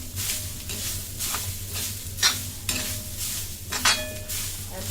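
Onion and coconut being sautéed in a pan for Malvani mutton, with steady stirring scrapes and a soft sizzle, plus a few sharper utensil clinks against the pan; no one speaks.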